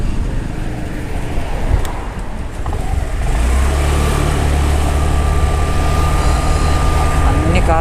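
Cars on the hill road up to Nandi Hills drone past as a steady engine and tyre rumble, with a sustained low vehicle hum swelling and holding from midway on, and a voice speaking faintly over it.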